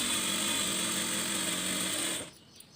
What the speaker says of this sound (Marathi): अशाच पद्धतीनं दुसऱ्या पण ब्रेसपट्टीला आपल्याला टिप मारून घ्यायची